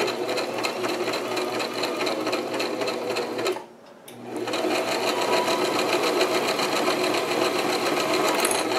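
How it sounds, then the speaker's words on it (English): A sewing machine runs a back stitch on grow bag fabric, a steady loud rapid whirring hum that stops briefly for about half a second and then resumes at full pace, close up with no speech. "it would help if I turn the machine on, and I'm going to start it and do a back stitch to set the thread."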